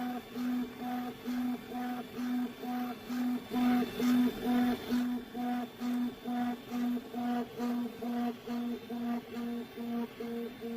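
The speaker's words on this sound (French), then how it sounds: "vous entendez le bruit que fait l'imprimante." A Flashforge AD5X 3D printer runs with a steady, rhythmic pattern of whirring stepper-motor tones that pulse roughly every half second, close by.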